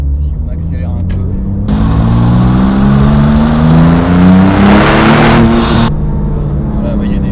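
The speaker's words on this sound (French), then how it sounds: "on met juste un coup d'accélérateur" A Porsche 997 GT2 engine revs up loudly nearby, rising in pitch as the throttle is blipped before dropping back to idle, with speech around it.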